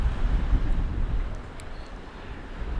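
Strong wind buffets the microphone in continuous low rumbling gusts, loud and close, with no voices.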